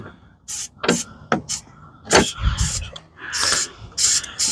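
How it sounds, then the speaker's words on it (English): PB Blaster penetrating oil sprayed down onto a thread during shift linkage and bushing removal: several short, close hissing spray bursts in an uneven rhythm, separated by brief pauses and faint handling noises. "Spray it with the PB blaster right down at the thread."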